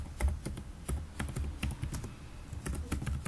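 Rapid clicking of a computer keyboard as text is typed, the keystrokes coming in uneven clusters close to the microphone against a faint background hiss.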